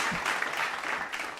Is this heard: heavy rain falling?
no